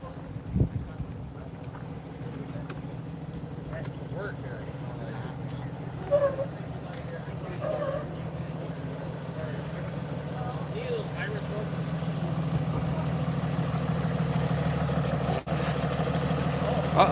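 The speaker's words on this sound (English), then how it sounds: "Comes the school bus." A school bus pulls up on a residential street, its engine a low steady drone that grows louder as it nears, with a brief hiss of air brakes and faint background chatter.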